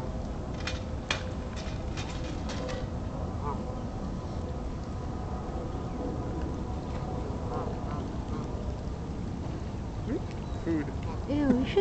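Canada geese squabbling over territory near water, honking and quacking in bursts throughout, loud and close, with people talking nearby.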